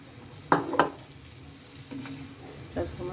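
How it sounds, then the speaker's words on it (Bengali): Chopped ash gourd hits a hot pan in two quick bursts, then a softer sizzle and stirring scrapes follow, fairly close and without speech. "এই যে আমি এখন চাল কুমড়োটা দিয়ে দেব"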